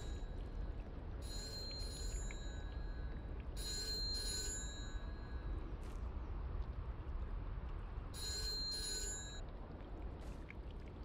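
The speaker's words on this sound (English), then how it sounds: "Wait, phone's ringing?" A telephone rings in the WW2 Rebuilder video game, three separate bursts of bright electronic trilling spread over a steady low background hum, clear and fairly close.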